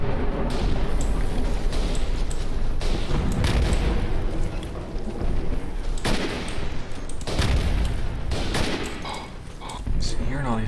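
Dense rifle and machine-gun fire in a World War I trench warfare game, Verdun, with repeated sharp shots and bursts near and far over a constant rumbling battlefield din.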